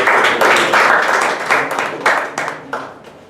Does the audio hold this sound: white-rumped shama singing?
no